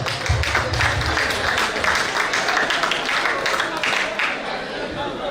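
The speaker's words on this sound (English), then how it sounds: "Round of applause for him." A convention crowd claps together in a brief burst of applause, dense and steady, with some cheering mixed in.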